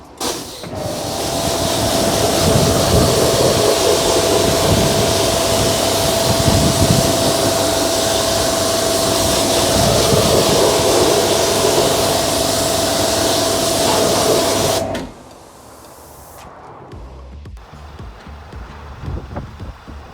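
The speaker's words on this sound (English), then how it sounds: "all that's left to do is give it a thorough rinse" A continuous loud hiss of water spray rinsing a car wheel and tyre sidewall after cleaning with citrus wash, steady for about fifteen seconds before cutting off to quiet handling sounds.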